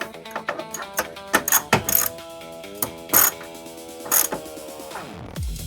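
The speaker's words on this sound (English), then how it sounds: "Screw it all the way down and then snug it up" M4 hex post being screwed onto a threaded stud during a pinball machine upgrade, giving close mechanical ratcheting and clicking with several sharp metallic taps and scrapes, no talking.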